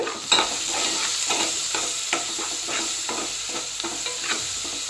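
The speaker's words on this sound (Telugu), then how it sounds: "ఇప్పుడు ఆనియన్స్ని కొంచెం వేగనిద్దాము" Thinly sliced onions with salt sizzle in a hot pan, a bright steady frying hiss broken by regular scraping stirs, close and alone without speech.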